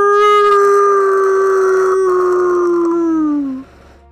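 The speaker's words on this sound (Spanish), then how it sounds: "Miro hacia el cielo y aúllo hacia la luna" A long, loud wolf-like howl from a character in the video game Wayfinder, a single sustained tonal cry held steady for several seconds before bending downward and cutting off, close and alone.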